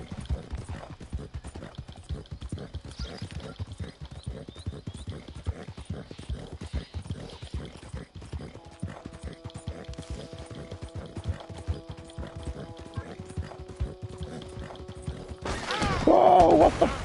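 Horse hooves clip-clop steadily in Red Dead Redemption 2, a regular rhythmic beat of footfalls at moderate distance, with some tonal game sounds joining midway and a louder burst near the end.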